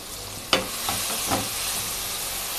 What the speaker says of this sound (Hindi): अब ये जो मैंने सब्ज़ मिर्चें और प्याज कूट के रखा हुआ है ये डाल रहे हैं।